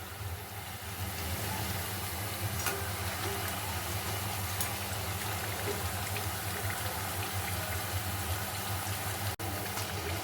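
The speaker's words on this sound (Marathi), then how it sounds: "गुडगुडे कमी होईपर्यंत आपण यांना तळायचं आहे" Chakli, a crisp Maharashtrian snack, frying in hot oil, giving a steady dense bubbling and sizzling hiss that runs throughout at close range, with no talk.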